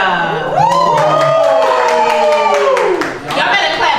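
An audience at a live R&B show at Shanklin Hall claps and cheers loudly, with whoops and shouts over sustained applause, while music plays along underneath.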